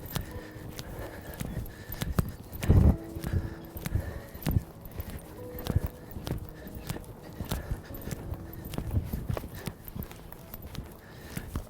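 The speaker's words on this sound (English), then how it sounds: "we're going to start off with the poles before the cavalettis, just to make it easier on the horse" A horse's hooves clop over ground poles during a training exercise on a farm, a steady striding rhythm of close, crisp hoof beats with an occasional heavier knock, no voices.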